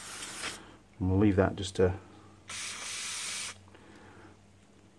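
Short bursts of aerosol cleaner hiss onto a Briggs & Stratton carburettor during a clean-up, a steady broadband spray standing alone after a voice.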